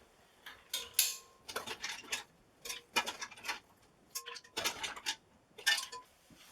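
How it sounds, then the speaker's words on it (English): Mussels lifted from a pot with a slotted spoon, giving a series of close metallic clinks and shell clatters in irregular bursts, with short pauses between scoops. "using a slotted spoon, just going to grab as many as I can"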